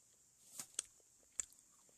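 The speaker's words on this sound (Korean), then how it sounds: "쩝쩝소리 양해 부탁드립니다." Quiet, close-up chewing of a chocolate-coated banana, with a few sharp crunchy bites spaced apart, set against near silence.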